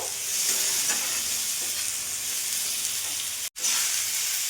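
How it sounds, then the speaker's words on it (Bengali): Chicken mince fries and is stirred in a pan, a steady close sizzle with faint scraping strokes that drops out for an instant before resuming. "এবার ভালো করে নাড়াচাড়া করে নেব।"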